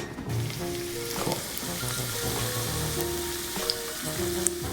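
Garlic cloves sizzle and fry in olive oil in a pan, a steady close crackle with brief stirring clatter throughout, no talking.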